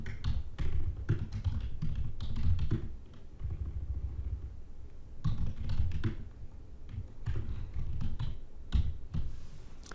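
Rapid, steady keystrokes on a computer keyboard as an email subject is typed, close and fairly loud, with bursts of clicks separated by brief pauses and no voices.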